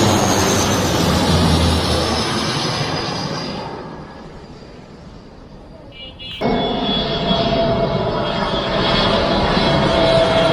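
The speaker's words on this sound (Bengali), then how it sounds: "এই বিমানটি বিমান বাংলাদেশ এয়ারলাইন্সের ছোট একটি বিমান" A small Biman Bangladesh Airlines plane flies low over Uttara, Dhaka, while approaching the airport. Its strong engine roar dips to a quieter drone in the middle, then returns sharply and stays loud to the end.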